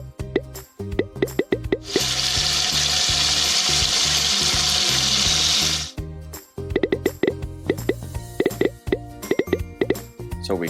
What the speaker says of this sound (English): So we quickly fry the meat with a little bit of oil, a little bit of salt